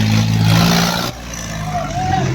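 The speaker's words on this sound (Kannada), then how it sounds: "ಭಾಳ ತಿಂಡಿ ಟ್ರ್ಯಾಕ್ಟರ್ಗಳು ಬರ್ಲಾತಾವ್ರಿ." Tractors rumbling past at the Shirabur threshing ground, one loud engine close by before dropping away, with a further engine drone continuing behind.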